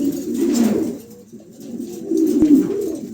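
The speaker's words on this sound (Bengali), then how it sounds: "খুবই চমৎকার এক জোড়া কবুতর" A pair of pigeons cooing close by, two soft throaty rolling coos separated by a brief lull, clear and alone with no talk.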